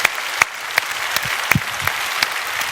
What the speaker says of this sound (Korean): 하나님께 영광에 박수합시다